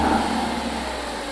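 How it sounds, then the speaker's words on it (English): A Ford Focus ST engine hums steadily at moderate revs, a close, constant mechanical drone over a brief moment with no talk. "Rev it a little bit."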